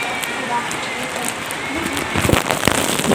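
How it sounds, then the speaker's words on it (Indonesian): Heavy, steady rain pours down during a journey, a dense continuous hiss with scattered sharper drops and spatters growing louder toward the end. "Dari pagi hujan ya, nggak berhenti-henti ya"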